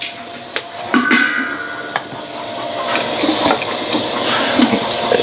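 Lardons frying in a pan over a wood fire, a steady close crackle and sizzle with a few sharp clinks of utensils against the pan, no voices.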